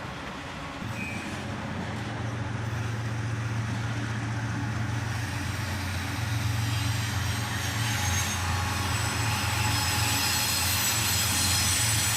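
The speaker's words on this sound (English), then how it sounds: "A single CM44 AC rebuild leads on the head end of this auto-rack train." A freight train led by a single CM44AC rebuild diesel locomotive rumbles past hauling auto-rack cars, with a steady low diesel drone and rolling clatter of cars, loud and continuous throughout.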